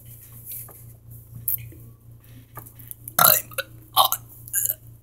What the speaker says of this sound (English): Why do you guys like us burping?